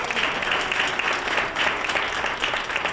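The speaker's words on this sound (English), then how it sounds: "let's give a big round of applause to the students" A room of guests applauds the students at an awards dinner, dense and loud clapping sustained evenly throughout with no speech over it.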